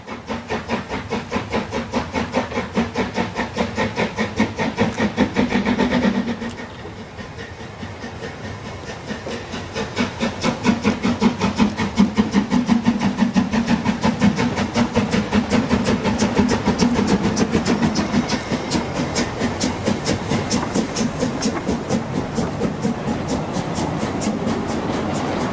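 Steam locomotive 99222, a standard-gauge-design narrow-gauge engine on the Harzquerbahn, hauls a transporter-wagon train over slippery autumn rails past an old factory, with steady loud chuffing, hissing steam and rolling wheel clatter throughout.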